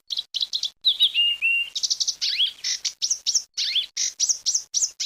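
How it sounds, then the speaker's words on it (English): An African Reed Warbler sings close and clear in South Africa, delivering a rapid series of short, high chirpy phrases with brief pauses, some notes sliding and churring, alone without other sounds. "Today's bird call is the African Reed Warbler."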